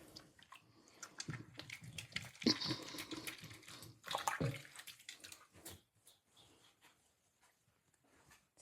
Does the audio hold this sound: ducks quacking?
no